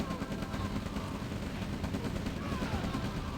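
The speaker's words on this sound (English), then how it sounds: "And another artillery from Goremented." Continuous rumbling battle din from a real-time strategy game match, artillery barrages blending into a dense, steady roar with no distinct individual blasts standing out.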